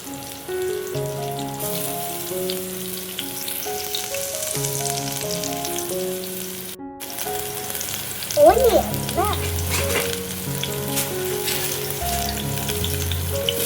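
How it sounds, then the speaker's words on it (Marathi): Chopped onion frying in hot oil in a home kitchen pan, a steady close sizzle with brief crackling pops, heard under continuous background music. "तेल छान तापलं ना की आपल्याला त्याच्यामध्ये टाकायचा आहे कांदा."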